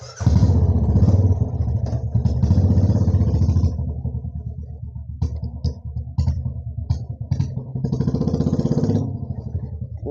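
A motorcycle engine rumbles steadily at close range, its low drone rising and falling with throttle and a few clattering bumps along the ride.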